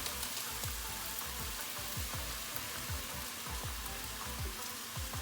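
Sauce for a stroganoff meal kit dumped into a hot pan, a steady loud sizzle and crackle with small pops running throughout, close and without speech.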